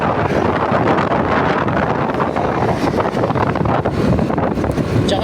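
Steady, loud wind buffeting the microphone outdoors in the mountains of Mindanao, a continuous broadband roar with no gaps for the full few seconds.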